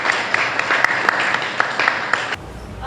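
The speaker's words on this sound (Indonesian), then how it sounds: "kita boleh tepuk tangan" Classroom applause from students during a lesson, steady dense clapping with a few sharper claps throughout, stopping abruptly near the end.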